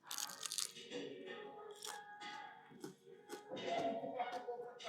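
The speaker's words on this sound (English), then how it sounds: "Crunchy. Nice crust." Loud crisp crunching bites into crunchy pizza crust at a buffet, several in a row, close up, with a voice talking briefly between chews.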